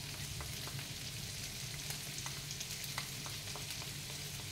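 Leftover boiled chicken for shawarma fries in a pan with a steady, soft sizzle and occasional small pops, heard close and alone.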